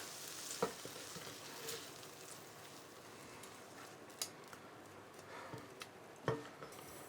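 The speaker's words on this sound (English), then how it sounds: "The onions are just starting to go a little bit translucent, so I'm going to transfer those to a pan that's got a lid" Onions sizzle softly in a pan, a quiet, steady frying hiss broken by a few sharp scrapes and knocks as they are moved, with no talking.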